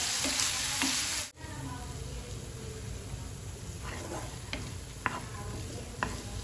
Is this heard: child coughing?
no